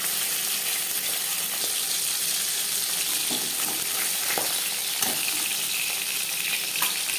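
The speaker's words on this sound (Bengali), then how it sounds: "মাছ আমি হালকা করে ভেজে নিলাম" Live fish is lightly fried in a pan for a light summer Bengali fish curry. A steady, close hiss of oil sizzling is broken by a few sharp pops and clicks.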